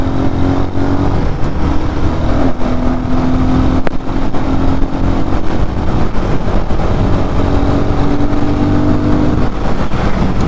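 Royal Enfield Guerrilla 450 on the move, its engine giving a loud, steady droning hum with a faint rising tone as it holds speed, mixed with wind rush, no voices.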